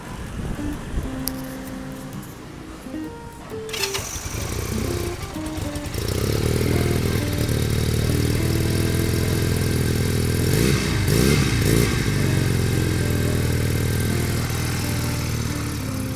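A 2019 GPX Legend 250 Twin two-cylinder motorcycle with its stock exhaust runs at a smooth, quiet idle, grows louder after a few seconds and gives a brief rev midway, the steady engine note close and alone.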